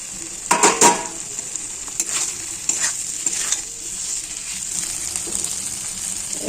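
Paneer and fenugreek leaves fry in a pan, a steady hiss of sizzling fat under brisk scraping strokes of a spoon against the metal, close and moderately quiet.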